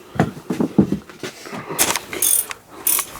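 A ratchet works loose the engine motor mount bolts on an S10 truck during a twin-turbo build, giving rapid close clicking bursts with metallic clanks and shifting tools in a garage.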